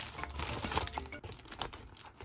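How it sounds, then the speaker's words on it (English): A plastic bag being cut open with scissors, giving close, continuous crinkling and rustling that swells and fades over about two seconds. "Now cut that one open."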